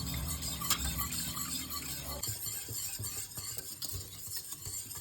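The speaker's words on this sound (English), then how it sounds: "Just keep whisking." A whisk works steadily in a bowl, with quick rhythmic clicks and scrapes that get busier in the second half, close and fairly quiet with no voice over it.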